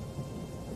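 Steady rain and low thunder rumble as game weather in Total War: Three Kingdoms, a faint, even wash of sound with no voices.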